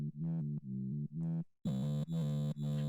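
A heavy, distorted synth bass plays a short repeating pattern of sustained buzzing notes, with brief gaps between phrases, loud and up front.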